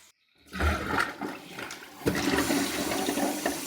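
A newly installed toilet flushes after a short silence, with a sudden rush of water that swells into a loud, steady roaring drain close by.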